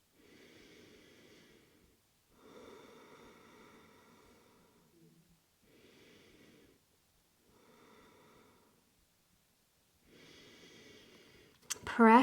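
Slow, deep yoga breaths held in a forward fold come in long, soft, airy cycles with quiet pauses between them, close to the microphone, ending in a brief sharper rustle.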